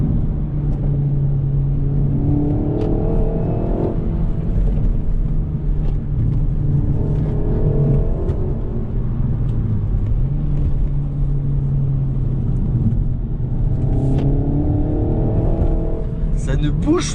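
Renault Megane RS Trophy, 300 hp, cruising with a constant low in-cabin rumble, its exhaust giving repeated rising-then-falling tones as the throttle is lifted, with someone talking over the drone.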